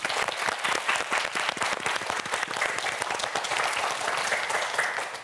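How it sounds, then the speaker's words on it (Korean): A studio audience at a televised student quiz show applauds the contestants, a dense, even wash of clapping at moderate volume lasting throughout. "큰 박수 보내주시기 바랍니다"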